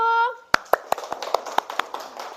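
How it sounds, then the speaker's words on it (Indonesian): A short voice gives way to a handful of sharp, uneven hand claps from a group in a school classroom, about eight distinct claps spread over two seconds, close and moderately loud. "Tepuk tangan untuk kelompok 1."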